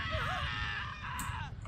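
A Sim character in The Sims 4 screams and wails in a sustained, wavering cry lasting under two seconds, close and loud over busy game background sound.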